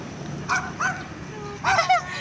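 A pet dog barks in short, sharp yips, three or four barks in two quick clusters, fairly close, over soft background murmur.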